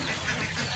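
Ducks at feeding time on a duck farm, a dense, brief chorus of overlapping quacks heard close and fairly loud.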